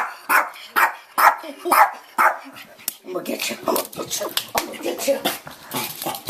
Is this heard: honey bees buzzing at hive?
no